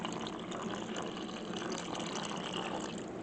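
Water gushes steadily into a container over steaks sitting in marinade, a continuous close filling rush with bubbling and churning, no voices.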